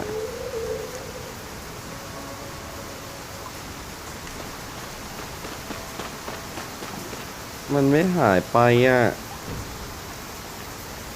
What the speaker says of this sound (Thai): ในเกมฝนก็ตก ชีวิตจริงกูยังฝนตกอีก